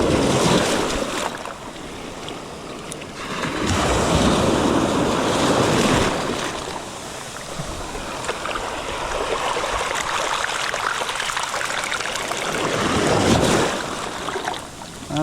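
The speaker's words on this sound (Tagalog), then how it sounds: "At tatanggal ang hampas na alon." Sea waves surge and crash around a fishing net being hauled from a boat, a loud rolling roar that swells and ebbs with wind buffeting the microphone.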